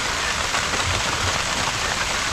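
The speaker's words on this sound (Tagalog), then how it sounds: "Ayan, umuulan." Rain falling over a planted vegetable field, a steady close hiss of drops pattering evenly with no talk.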